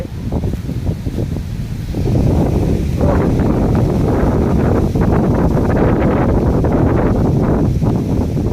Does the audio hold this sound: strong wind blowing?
yes